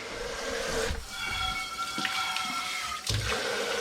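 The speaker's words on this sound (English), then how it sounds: "now we're rinsing everything with hot water" Hot tap water runs steadily into a kitchen sink while dishes and a juice strainer are rinsed, a continuous close splashing broken by brief louder gushes and clinks as items move under the stream.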